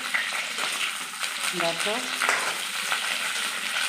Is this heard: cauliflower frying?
yes